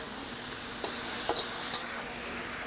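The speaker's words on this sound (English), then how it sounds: "you continue stir fry for another 2 minutes or so" Chicken and vegetables, including peppers, being stir-fried in a pan for moo goo gai pan: a steady, soft sizzle with a few faint clinks and scrapes of stirring, no voices.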